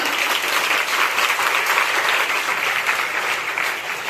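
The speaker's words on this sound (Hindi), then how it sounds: "इससे एक बार इनके प्रयास के लिए जोरदार तालियां।" Loud, sustained applause from an audience at a college event, clapping for a skit by NCC cadets in an anti-drug awareness campaign. The clapping is dense and steady for several seconds with no pauses.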